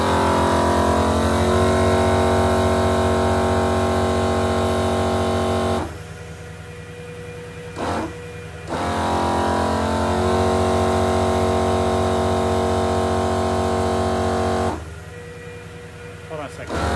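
A truck engine idles steadily with a loud, even droning hum, twice dropping out briefly into quieter stretches before the running sound returns.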